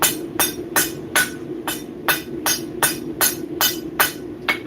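Hammer blows flattening hot metal at a blacksmith's anvil, about a dozen sharp, evenly spaced ringing strikes close by with no talking.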